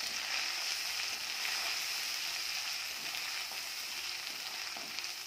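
Ground chili, coriander, cumin, pepper and turmeric frying and being stirred in a pan for chicken kosha, a steady close sizzle with occasional scraping of the spoon.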